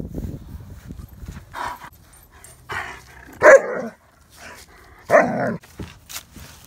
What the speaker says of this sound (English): and Odin, the German Shepherd, the star of this channel.